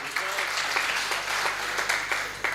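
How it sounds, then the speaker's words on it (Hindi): An audience at a Hindi comedy poetry show claps together, a dense, steady burst of applause that holds throughout, with a voice heard faintly beneath it. "तो एक बार ताली बजाओ"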